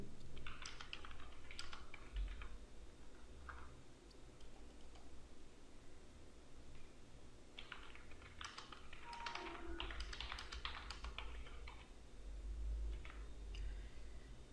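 Fingers type on a computer keyboard while writing a new WordPress blog post, producing quiet, irregular bursts of key clicks with short pauses, close by and without speech.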